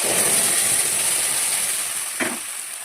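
Ground spinach paste goes into hot mustard oil with black cumin and carom seeds, giving a steady, bright hissing sizzle throughout, with a brief clatter near the end.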